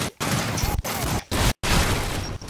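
Rapid bursts of video game gunfire in Gears of War, loud and close, firing in long sustained volleys broken by a few brief silent gaps, with speech faintly in the mix.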